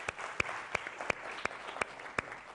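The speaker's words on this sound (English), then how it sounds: "Please, audience, please give them a huge round of applause once again." Applause from a conference audience at the close of a talk on design thinking and Scrum, heard as a steady wash of clapping with a few sharper, louder claps standing out at a regular pace.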